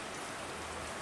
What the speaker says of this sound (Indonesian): the sounds of rain fall from the sky